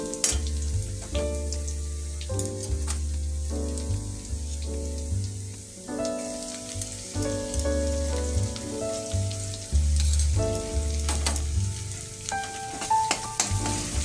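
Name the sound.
garlic paste frying in oil with browned onions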